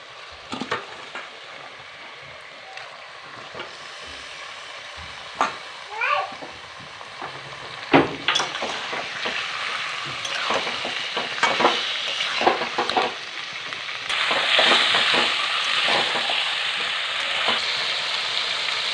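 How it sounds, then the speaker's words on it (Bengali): Meat goes into a hot pan with ginger-garlic-green chili paste and fries with a steady sizzle, broken by scraping stirs and sharp clinks of a spatula on metal in a home kitchen. "নেড়ে চেড়ে এবার দিয়ে দেবো মাংসটা"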